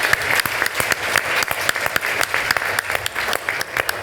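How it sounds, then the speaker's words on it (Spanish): A large audience claps steadily and loudly for the panelists at a conference panel, dense overlapping hand claps filling the room without pause. "démosle un aplauso a nuestros panelistas"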